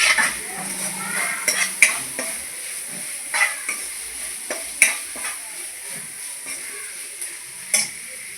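Clam meat being stirred in a frying pan, a steady sizzle and hiss under repeated scraping and clinking of a spoon against the pan, with sharp metallic knocks every second or so throughout.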